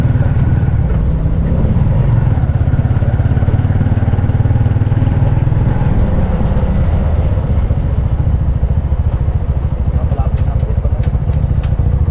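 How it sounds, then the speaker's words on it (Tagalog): A motorcycle engine rumbles loudly and steadily nearby, a constant low throb that runs without a break, with faint voices mixed into the noise. "May bagong motor."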